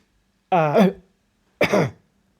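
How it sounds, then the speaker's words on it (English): Two short bursts of coughing and throat clearing, close and fairly loud, separated by about half a second of quiet. "I have a bit of a cough because I'm talking so much"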